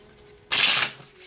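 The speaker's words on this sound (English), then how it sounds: "One more shuffle." A single quick riffle shuffle of a deck of tarot cards, a close, loud burst lasting under half a second against a quiet room.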